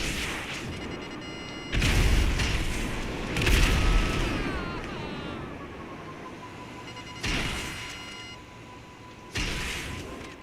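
Missiles explode in GTA 5 Online as a series of deep, rumbling booms, four or five blasts spaced a couple of seconds apart with lingering roar and electronic tones between them, no talk.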